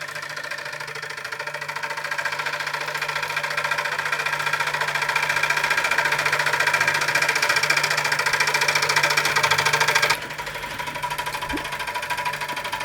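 A 1950s Mamod Minor 1 model steam engine runs steadily, giving a fast, even mechanical whirr and ticking that holds at a constant level, then briefly drops and changes tone near the end.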